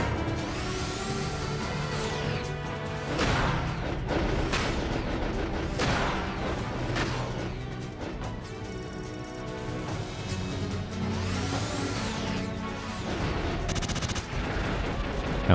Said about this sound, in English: A lot of rockets, jeez.